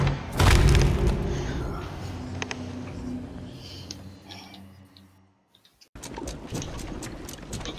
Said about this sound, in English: But the explosion actually hit all the way down